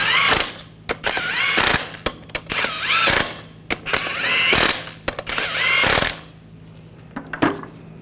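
Ratchet wrench snugging lug nuts on a GMC Sierra 1500 wheel, close and clear: several bursts of rapid clicking, each about a second long, separated by short gaps and sharp metallic taps.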